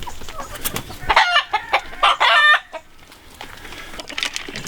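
Hens in a coop cluck in a rapid, irregular run of calls, a few loud squawks bunched mid-way, with a rooster crow in the mix and quieter clucking trailing off after.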